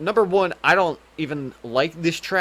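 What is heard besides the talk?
No everyday noise stands out behind the speech.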